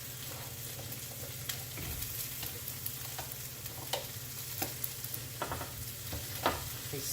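Roasted potatoes go into a pan of Brussels sprouts, which keeps up a steady close sizzle and frying crackle with scattered sharp pops and light scraping clicks throughout.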